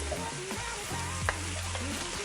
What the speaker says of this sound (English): The potatoes are raw, so we're putting them in now with the spice to give them a nice little bit of colour